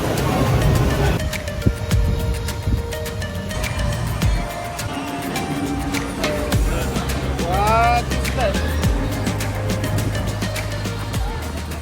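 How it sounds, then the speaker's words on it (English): An electric water taxi's motor rumbles steadily beneath wind and water noise at the Miami Boat Show, with people talking over it and occasional thumps and creaks as the boat moves. "Just on the water taxi"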